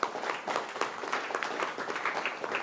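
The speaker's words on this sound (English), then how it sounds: "Give them another round of applause." Attendees at a public agency workshop applauding the presenters, a moderate round of clapping from a modest-sized room, steady with individual claps standing out.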